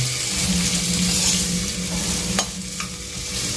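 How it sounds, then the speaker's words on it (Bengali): Small peeled potato pieces fry in hot oil with black cumin, giving a steady close sizzle with occasional stirring scrapes in the pan. "500 গ্রাম আলু খোসা ছাড়িয়ে ভালো করে ধুয়ে ছোট সাইজ করে পিস করে রেখেছি, দিয়ে দিচ্ছি ভেজে নেওয়ার জন্য"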